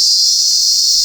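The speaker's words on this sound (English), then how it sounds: "Cicadas are screaming so loud here." Cicadas on Nosy Be island in Madagascar drone in a loud, steady, high-pitched shrill that never lets up, with no voices.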